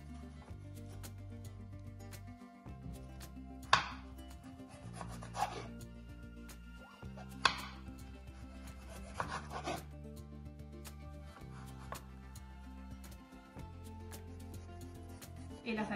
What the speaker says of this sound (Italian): Iniziate tagliando e sbucciando la zucca.